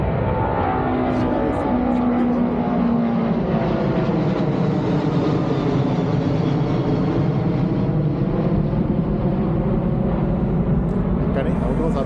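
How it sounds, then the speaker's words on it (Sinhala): A large passenger jet passes low near London Heathrow airport with a loud, sustained roar that swells and shifts in pitch as it goes by, with a voice talking over it. "මේ විදිහට ළඟටම ප්ලේන්ස් බලන්න පුළුවන්."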